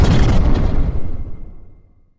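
A deep, booming explosion sound effect representing the Big Bang erupts loud at the start, then rumbles and decays over about two seconds into silence, with no voice over it.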